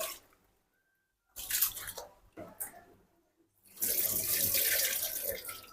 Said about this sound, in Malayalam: ഈ വെള്ളം അരി നമുക്ക് വെള്ളം തെളിയണ വരെ കഴുകി കൊടുക്കട്ടോ